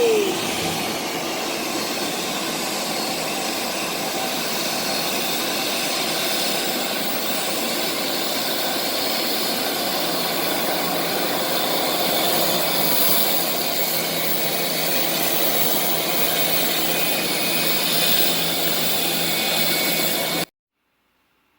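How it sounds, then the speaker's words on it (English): A small plane takes off at Moore County Airport, a steady, broad engine roar at moderate distance that holds for about twenty seconds before cutting off abruptly. "Also got another plane taking off right there."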